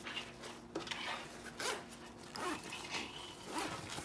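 Zipper on an adidas Essentials 2 sling crossbody bag, a heavy-duty jacket-style zip, drawn in several short rasping pulls with brief pauses between, close and fairly quiet.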